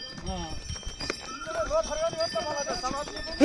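Horse hooves clip-clop at a steady walking pace while riders sit on the horse on a mountain trail near Muktinath, Nepal, close and moderately loud, with people talking over the steps throughout.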